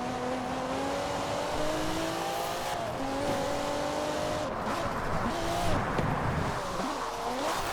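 A retro sedan races in Forza Horizon 4, its engine note rising and shifting through gears with tire squeal and skids, loud and continuous throughout.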